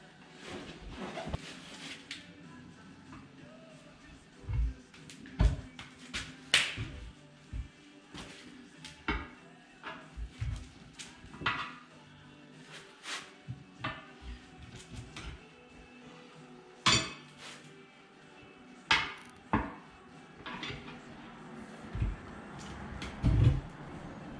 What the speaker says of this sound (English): I'm trying to push the tube down as far as it will go so I don't pinch it with these tire spoons